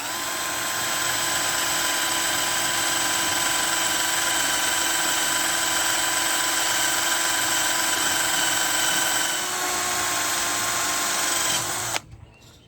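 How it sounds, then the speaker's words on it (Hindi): A cordless drill whines steadily at high speed while boring a hole through 12 gauge metal pipe, close and loud for about twelve seconds before cutting off abruptly. "तो यहाँ पे हम लोग ड्रिल करके देखेंगे"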